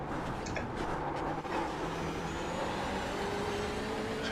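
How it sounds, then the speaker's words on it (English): TCR race car in iRacing running on a wet Long Beach street track, a steady loud engine drone with hissing spray from the tyres as it aquaplanes, continuous throughout. "Now we can hear the car aquaplaning slightly."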